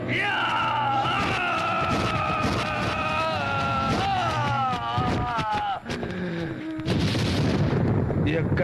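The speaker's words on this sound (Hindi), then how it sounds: "चीखने की आवाज है" Several people scream and wail loudly at once, wavering cries overlapping in a chaotic, sustained burst before a harsher noise takes over.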